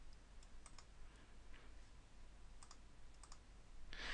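Soft keyboard typing, a few scattered light key clicks in short bursts, faint and close against a quiet room hum.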